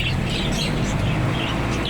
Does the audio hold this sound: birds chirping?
yes